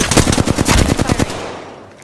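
Rapid automatic gunfire from a machine gun in a battle-royale shooter video game, a loud, dense burst of about a dozen rhythmic shots lasting over a second, then cutting off into a fading tail.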